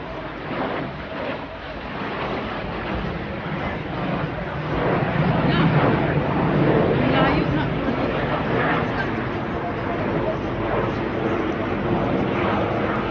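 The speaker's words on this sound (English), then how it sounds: "the first part of the show very much sees the aircraft conducting close formation aerobatic speeds, just a little over 300 knots, but remaining close in" Strikemaster jets fly close formation aerobatics at an air show near the coast at Eastbourne, heard as a steady broadband jet roar that swells around the middle, with wind noise on the microphone.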